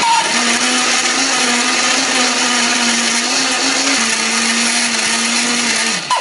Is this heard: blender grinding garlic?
yes